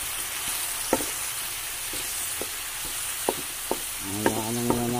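Soy sauce and carrots simmer in a pan for Visayan fish escabeche, a steady soft bubbling hiss with a few light clinks of a utensil against the pan and a brief burst of louder bubbling near the end.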